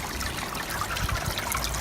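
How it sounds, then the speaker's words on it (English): Water trickles steadily from a small waterfall built in the corner of a backyard turtle pond with smashed granite rocks, a continuous close splashing that runs unbroken throughout. "created a little bit of a waterfall effect and kind of hides that pipe as well"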